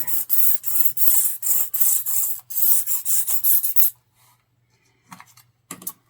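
A marking tool scratches across a quilt in rapid rhythmic back-and-forth strokes, close and fairly loud, then stops, followed by a few faint brief scrapes, with no talk.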